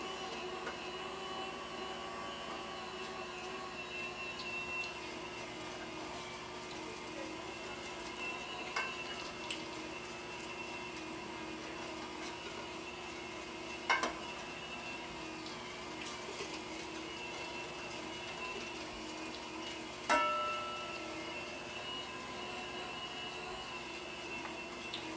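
An electric meat grinder churns partially frozen meat with a steady mechanical whir and hum throughout, with a few faint clicks and clunks.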